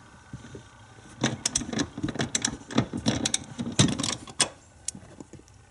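Ratchet with a 14mm socket working a seat bolt loose on a Honda Accord: a series of close, sharp clicking bursts in irregular runs, moderately loud, with brief pauses between strokes and no talking.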